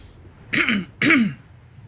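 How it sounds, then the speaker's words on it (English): Two quick, loud throat clearings from a man, close to the microphone, each about a third of a second, separated by a brief pause, with no speech around them. "I usually end up having to clear my throat a lot."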